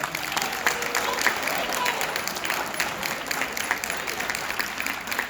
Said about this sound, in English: So I want everyone to give our teachers a round of applause.